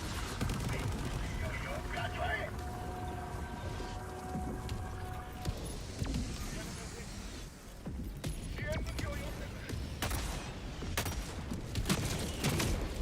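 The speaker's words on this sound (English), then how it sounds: "he's shooting his purifier full auto" Rapid full-auto fire from the Purifier weapon in Helldivers 2, a dense steady stream of shots running throughout under game noise and talking voices.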